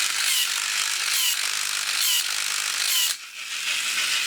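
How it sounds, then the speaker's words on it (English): Gearbox of a 1985 Japanese Monster robot toy shifting gears, giving rapid ratcheting plastic clicks in repeated bursts with brief pauses between them, close and fairly loud. "that's how it shifts gears in the gearbox to do different things"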